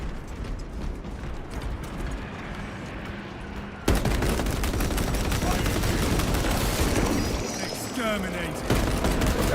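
Heavy gunfire in a Space Marine 2 battle, a dense, continuous barrage of shots and mechanical clatter that grows louder partway through, with a voice speaking over it.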